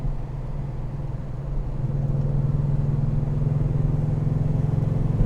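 A Lancia Flavia flat-four engine pulls in fourth gear around 3,000 rpm, a steady low drone with an even pulsing beat that builds slightly in loudness as it accelerates, heard from inside the car with no talk.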